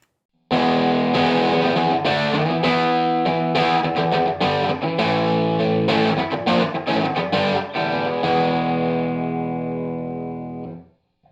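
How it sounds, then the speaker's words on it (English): Distorted electric guitar through a late-1960s Marshall JMP50 amp with Greenback speakers plays crunchy chords and riffs, loud and close, before ringing out to silence. "This is a late 60s Marshall with greenbacks."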